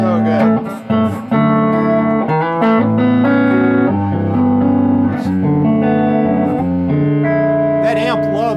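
Electric guitar played through an amp, chords and single notes ringing out with a wash of reverb and a slightly gritty tone, loud and close.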